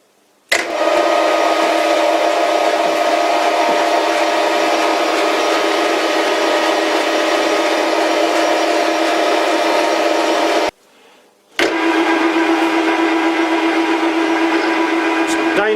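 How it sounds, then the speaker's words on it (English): A metal lathe spins a workpiece for center drilling, giving a loud, steady whine with a strong tonal hum that runs continuously, stops briefly, then starts up again. "Okay, I'm ready for center drilling."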